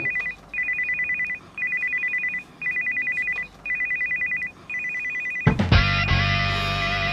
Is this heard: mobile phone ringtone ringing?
yes